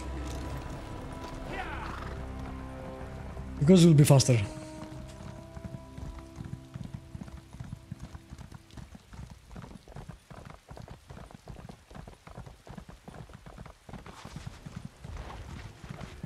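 A horse in The Elder Scrolls Online whinnies loudly once, then its hooves clop in a steady galloping rhythm that runs on alone, with a brief spoken line near the start.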